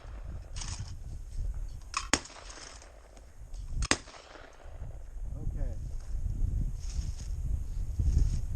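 A Beretta A400 Xtreme Plus shotgun fires at trap targets outdoors: two sharp, loud single shots about two seconds apart, standing out over steady background noise and voices talking.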